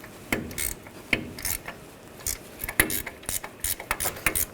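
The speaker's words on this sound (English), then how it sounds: "you can switch to a ratchet wrench, make it a little easier" Ratchet wrench loosening an 18mm nut on the front lower ball joint of a 2014-2018 GMC Sierra 1500, giving a series of sharp, irregular clicking bursts close up, with no talk.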